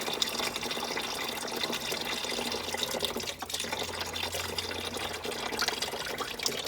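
Water runs steadily out of the engine of a 1984 Chevy Blazer, a continuous close splashing trickle like a tap pouring onto a surface, with no voices.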